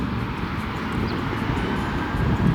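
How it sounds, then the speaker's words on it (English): A low, steady jet engine roar of aircraft taking off at a nearby airport fills the background at Technik Museum Speyer, constant and fairly loud. "You can actually hear aeroplanes in the background at the airport taking off as well"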